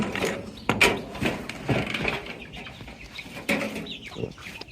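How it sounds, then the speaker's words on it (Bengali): Tiger chickens on a rooftop farm cluck in short, irregular bursts close by, with some wing flapping and a busy ambient background. "এই দেখুন আমাদের টাইগার মুরগি।"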